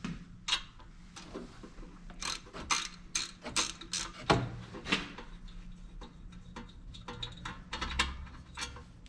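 Hand tools work at the cover of a whole home generator box that runs only a few seconds and won't produce power, making a quick run of ratcheting clicks and metallic rattles at close range, with brief pauses between bursts.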